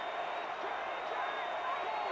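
A crowd roars steadily in a football video game, Las Vegas home fans cheering their team on for a goal-line stop, a dense sustained wash of noise with a commentator talking over it.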